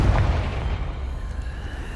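A Confringo blasting spell bursts in Hogwarts Legacy, a single deep boom that rolls off quickly into a low, fading rumble.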